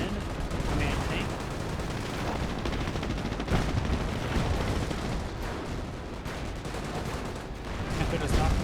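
Gunfire from the World War II strategy game Company of Heroes, with rapid machine-gun bursts and scattered shots mixed with battle noise, running continuously at moderate loudness.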